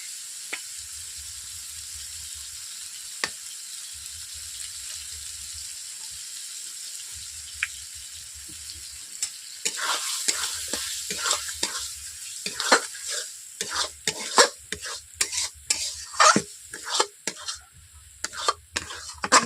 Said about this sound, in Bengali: ডিমটাকে ফেটিয়ে কড়াইয়ের মধ্যেই দিয়ে দিচ্ছি